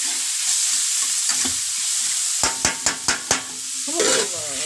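Sliced onions fry in oil for a prawn coconut curry, a steady sizzle broken by a quick run of sharp spatula scrapes and clinks against the pan, heard close up.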